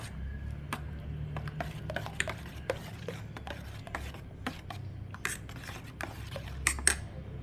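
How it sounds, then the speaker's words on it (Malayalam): Ingredients for mango juice with chia seeds get stirred together in a container, a steady run of scraping and clinking of a utensil against the sides, with sharper taps scattered throughout and no voices. "നമുക്കെല്ലാം കൂടെ മിക്സ് ചെയ്യാം"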